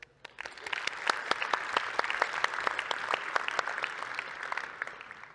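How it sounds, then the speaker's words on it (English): Audience at a JavaScript developer conference breaking into applause, a lively burst of many distinct claps that builds quickly, holds, then tapers off. "Big round of applause to JS conference."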